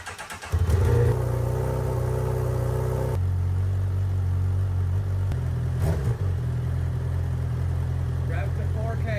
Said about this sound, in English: stock exhaust, cold start